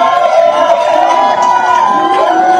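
Crowd of political supporters shouting and cheering at a rally, a loud continuous roar of many voices with rising and falling yells.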